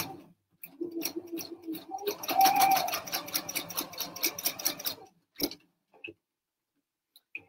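A sewing machine stitching elastic, folded over a few inches at a time, with the bobbin thread fighting the top thread. Short runs of rapid stitching build to a steady burst, then stop, with a few clicks after and no voices.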